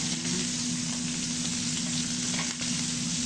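Onions frying in a pan for homemade burgers: a loud, constant close sizzle and crackle with a steady low hum beneath, no talk.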